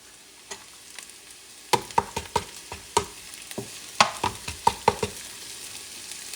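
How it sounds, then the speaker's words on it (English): Shredded carrots tumble into a pan of frying buckwheat and beef, setting off a burst of close sizzling, then a run of sharp spoon clicks and scrapes against the pan as the mix is stirred, with no talking. "I'm going to add about a cup and a half of shredded carrots."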